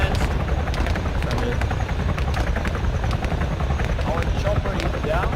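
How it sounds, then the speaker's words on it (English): Helicopter in the video game Arma 3, a loud steady rotor chop with engine whine throughout, and people talking over it. "Land the chopper and yeah."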